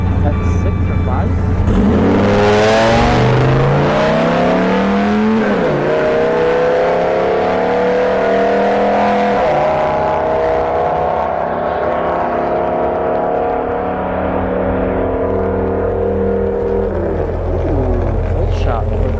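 SRT10 Ram pickup and a BMW X5 drag racing down a strip, engines roaring loudly and close with several rising rev sweeps and gear changes, a voice talking over the noise.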